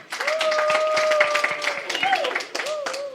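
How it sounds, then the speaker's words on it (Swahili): A crowd at a Kenyan political gathering applauds with a steady patter of hand claps that runs underneath a voice speaking over it. "Naomba mpigie makofi."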